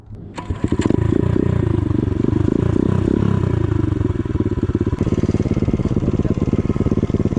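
A dirt bike engine starts and revs hard, a loud close rattling roar that holds steady and then shifts into a rhythmic pulsing as the bike pulls away.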